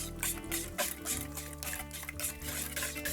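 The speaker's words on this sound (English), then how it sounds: "Whisk it all together." A whisk beats pumpkin puree, sugar-substitute sweetener and vanilla extract in a bowl, a rhythmic, close, wet swishing and clinking that repeats steadily without any talking.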